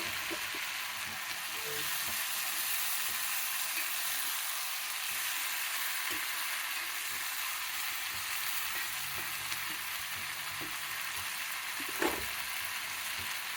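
Ivy gourd with tamarind pulp frying in a pan, giving a constant close sizzle with occasional soft stirring ticks and one sharper knock near the end, no voices present.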